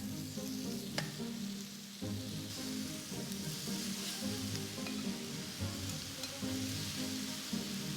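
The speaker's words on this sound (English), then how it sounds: "So you want that your pan is sizzling." Thin-cut chicken pieces sizzling and frying in hot oil in a pan, a continuous crackling hiss with occasional stirring and faint pops, close and steady throughout.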